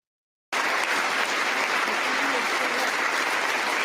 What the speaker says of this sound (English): And we're clapping.